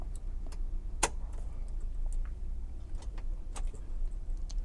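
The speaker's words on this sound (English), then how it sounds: "The car will not start because we did not step on our clutch." A manual Mitsubishi Strada pickup has its key turned without the clutch pressed, so the engine stays silent: a few sharp key and ignition clicks over a steady low cabin hum.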